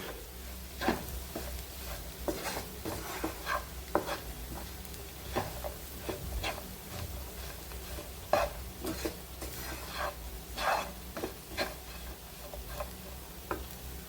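Chili and coriander powder masala sautéing in a pan, heard as quiet close stirring with repeated spatula scrapes and taps over a soft sizzle for a chicken roast.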